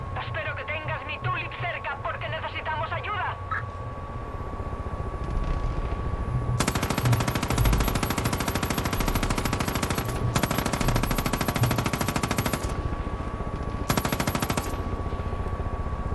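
Sustained machine gun fire from above in the Far Cry 5 video game, loud dense bursts in three long stretches after a quieter opening with speech and game sounds.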